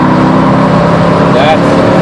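A Mercedes AMG C55 accelerates on a race track, its engine a loud, sustained low drone heard from close by. A voice speaks over the engine.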